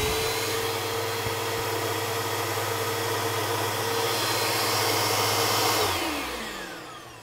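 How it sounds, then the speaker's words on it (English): Bissell PowerLift Pet 2260 upright vacuum with a reversed air pathway and almost no suction at the hose, running with a steady motor whine and airy roar at close range, then spinning down near the end. "I'm going to go ahead and plug this guy in, and we're going to run him and see if there's any suction coming through this hose."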